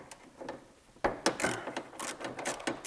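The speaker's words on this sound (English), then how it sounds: "take our 13 millimeter socket and take off the 2 bolts that are here holding the back of the bracket on" A 13 mm socket ratchet loosens the exhaust bracket bolts on a Porsche 997, giving a series of close, sharp metallic clicks and ratchet bursts after a quiet opening second.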